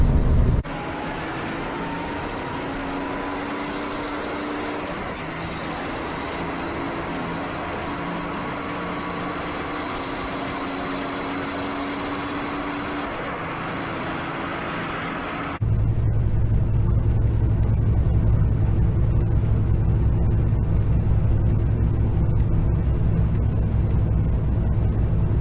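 Truck driving across the prairie: a steady, continuous engine drone and road rumble that grows louder and deeper partway through, with no talking.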